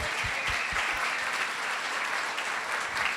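A room full of people applauds steadily for an award winner at a workplace employee recognition event, the clapping dense and continuous throughout.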